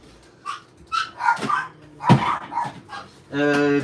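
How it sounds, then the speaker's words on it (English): Indoor dogs bark in short scattered yaps and whimpers at close range, mixed with a person's voice calling out, ending in a louder sustained bark or yelp. "Dogs are barking."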